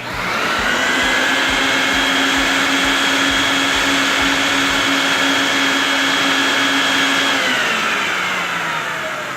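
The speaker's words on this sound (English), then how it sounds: "vacuum all the Dead Sea minerals through the rug" A steady, loud vacuum drone sucks cleaning solution of Dead Sea minerals down through a needlepoint rug from beneath, holding one constant whine before dropping in pitch near the end.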